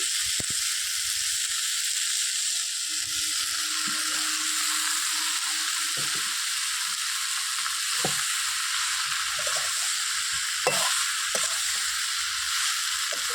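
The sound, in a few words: bottle gourd frying in pan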